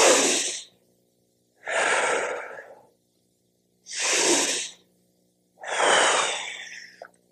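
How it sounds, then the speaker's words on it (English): Exaggerated diaphragmatic breaths are taken while lying on the floor: four long, airy, noisy exhalations and inhalations, each lasting under a second, separated by short silences, close and fairly loud, with no speech over them. "Lying on the floor, I can also exaggerate the diaphragmatic breathing."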